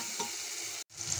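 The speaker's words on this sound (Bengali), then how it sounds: "এখন আমি মশলাটা ভালোভাবে ভেজে নেব।" Spices such as red chili powder and coriander powder fry in a pan for aloo gobi, giving a steady close-up sizzle that cuts out for a moment near the end and then resumes.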